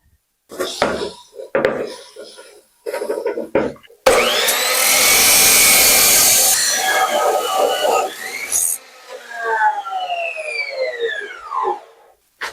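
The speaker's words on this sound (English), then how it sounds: "the first step is to cut two 20-inch pieces of 1x3" A power saw cuts 1x3 wood boards, a loud, steady whining cut of about four seconds with sweeping tonal bands, followed by the blade ringing down. Talk comes before the cut.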